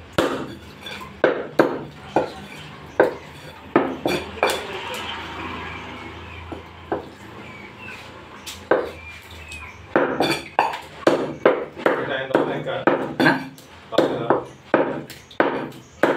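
A cleaver chops chicken meat on a chopping board with a series of sharp, near, percussive thwacks, loose at first and then fast and rhythmic. A person talks quietly in the background.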